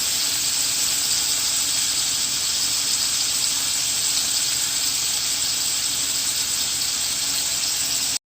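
A burger patty cooks in a pan, giving a steady, even sizzle and hiss that holds at moderate level from start to finish with no talking.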